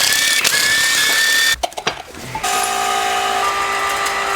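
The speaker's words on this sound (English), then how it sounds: "We just have one bolt that they left in there. Now we can undo the axle." Last bolt being undone on a Land Rover axle: a steady mechanical ratcheting whir, a brief pause with a few clanks, then the tool runs again close and loud.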